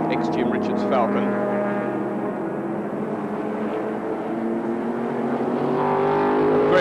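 Tony Hubbard's lightweight ex-Jim Richards Ford Falcon sports sedan race car runs with a steady, loud engine drone throughout, harmonic tone shifting slightly as it passes, with no break.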